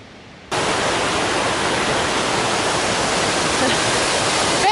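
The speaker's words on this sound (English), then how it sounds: "Waterfall, I got wet from above and below." A steady, roaring rush of falling water from a waterfall on the Pacific Crest Trail begins abruptly after a brief quiet moment and continues loud and close without a break.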